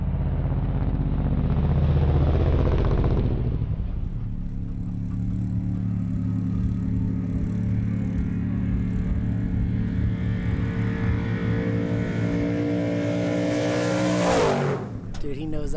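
Toby Price's Red Bull Trophy truck at the Finke Desert Race: a loud engine roar swells, then settles into a sustained rumbling drone for several seconds before a sharp rising burst near the end.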